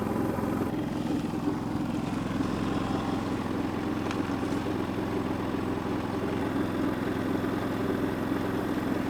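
An Onan 3500 generator mounted on a truck camper runs steadily, a low, even engine drone that holds without change throughout, fairly quiet and heard close by.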